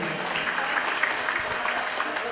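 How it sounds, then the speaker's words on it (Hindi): An audience at a Maithil Samanvay Samiti award ceremony for students applauds loudly in honour of Maa Saraswati, a dense, continuous wash of clapping from the crowd. "माँ सरस्वती की जोरदार ताली बजा दियो।"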